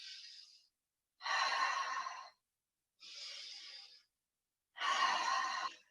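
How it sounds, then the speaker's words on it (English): Slow, deep breaths in a yoga class: four separate airy breaths, each about a second long, alternating inhale and exhale with silent gaps between them, close to the microphone and soft. "Inhale, exhale. Keep your breath going."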